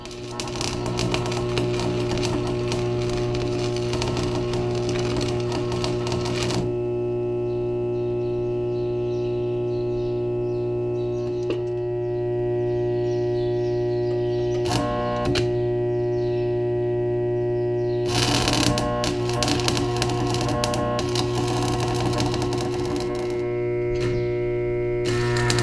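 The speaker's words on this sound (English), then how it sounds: "I'll try welding this thing on her and see how it works" Metal is welded in a barn, giving a long, steady buzzing hum with crackling arc noise that swells and drops back over the stretch. No one speaks.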